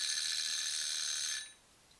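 A mechanical egg timer rings with a loud, continuous metallic bell trill for about a second and a half, then stops abruptly, leaving near silence.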